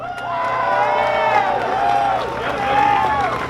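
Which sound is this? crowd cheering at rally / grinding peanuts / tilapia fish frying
crowd cheering at rally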